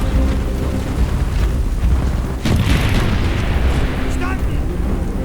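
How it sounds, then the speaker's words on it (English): A mortar fires and shells explode in the Black Ops: Project Nova shooter, a heavy rumbling boom rolling over dense battle noise. One sharp blast lands midway, with shouting voices in the mix. "Firing mortar!"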